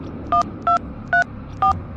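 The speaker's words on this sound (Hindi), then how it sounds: "पंडित को फोन लगाता हूँ।" A telephone number is dialed on a keypad, producing four short electronic tone beeps evenly spaced about half a second apart, clear and close over a quiet background.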